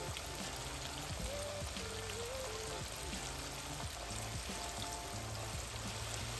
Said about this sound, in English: today I'm just gonna fry in this pot